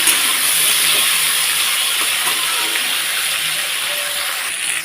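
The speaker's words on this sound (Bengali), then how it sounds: "ডাটা আলুটাকে আমি সুন্দর করে ভেজে নিচ্ছি লাল লাল করে" Potatoes and vegetable stems frying in a pan with salt, giving a steady, close sizzling hiss that holds even throughout without any talk.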